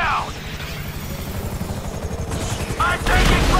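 Gunfire rattles in GTA V during a helicopter extraction, with rapid bursts under the steady whir of a chopper's rotors, loud and close, building toward a heavier burst at the end.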